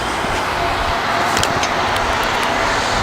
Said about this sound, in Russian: Машина ездит, шум.